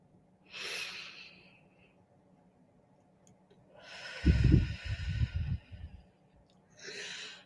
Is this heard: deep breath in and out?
yes